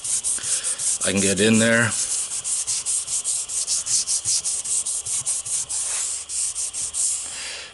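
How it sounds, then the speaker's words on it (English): A Scotch-Brite pad scuffs the smooth edges of a car panel before priming during a small dent and hail repair, making a close, rapid back-and-forth scrubbing rasp with a short spoken remark partway through. "So anytime you have a smooth edge before you prime it, Scotch-Brite pad works really good."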